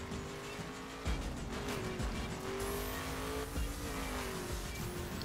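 Racing car engine in the video game The Crew during a rally race, a steady revving drone with shifting pitch and thumps of bumps or skids, moderately loud and alone.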